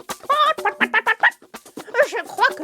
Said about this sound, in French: une poule qui cherchait à manger remarqua le biscuit